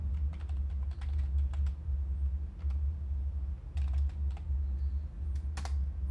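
Keys clatter on a computer keyboard as a console command is typed into Skyrim, quick bursts of clicks in short runs with pauses, close-up over a low steady hum.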